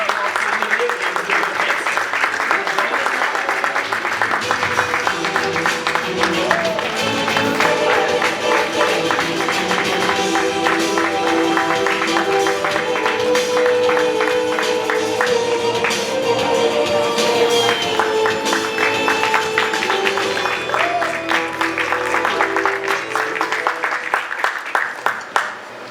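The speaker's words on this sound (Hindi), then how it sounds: "हम एक और गेस्ट को यहाँ पर बुलाएं प्लीज तालियों के साथ में" An audience at a Shark Tank style business show applauds a guest's arrival, with sustained, rapid clapping over music. The sound stays loud and continuous for the whole span, with a host's voice partly heard beneath it.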